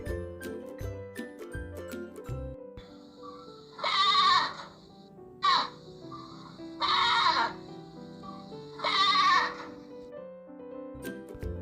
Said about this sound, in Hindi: ये है बकरी, जिसे हम इंग्लिश में बोलते हैं गोट।